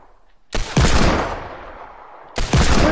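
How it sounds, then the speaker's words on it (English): Two sudden, loud hand cannon blasts go off in a shooter video game, each a sharp burst followed by a long, rumbling decay, spaced about two seconds apart. "I'm just shooting"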